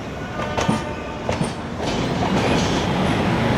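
A BEML-built metro train in Jaipur, on AC overhead-traction track, passes overhead with a near, continuous clickety-clack of wheels over rails, a few sharp squeals and clanks early, and the rumble swelling slightly toward the end.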